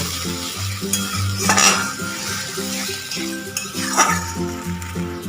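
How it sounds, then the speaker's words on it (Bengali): Fried spice paste with a five-spice tempering is stirred in a pan, giving a sizzling hiss with a few louder scraping bursts, all under steady background music. "এবার মশলাটাকে একটু নাড়িয়ে নেব"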